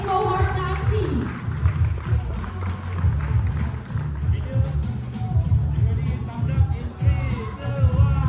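Audience applause for ten accelerator startups at a Cyberjaya demo day, a steady wash of clapping and crowd noise with music and babble mixed in, sustained and fairly loud throughout.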